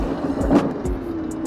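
Crazy Cart XL ride-on kart driving with a steady close motor whir, a brief louder surge near the middle and low rumbling bumps throughout.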